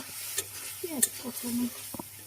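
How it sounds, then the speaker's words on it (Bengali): Onions sizzle steadily in a pan with turmeric, chili powder and salt while a utensil stirs and scrapes in short strokes, close by and moderately loud. "পেঁয়াজ কষানি।"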